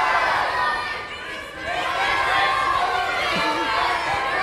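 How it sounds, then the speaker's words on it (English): A crowd of schoolchildren at a science lecture shouting out over one another in a loud, overlapping jumble of voices with some laughter. "shout out the name of your teacher."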